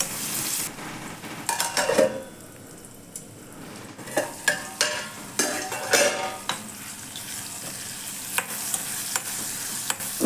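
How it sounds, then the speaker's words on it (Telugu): Eggplant and onion cook in a pan while a utensil stirs them, producing repeated scraping clatters over a soft background sizzle, close and fairly loud in irregular bursts. "వంకాయని ఈ విధంగా మధ్యలో కలుపుకుంటూ మగ్గనివ్వాలి."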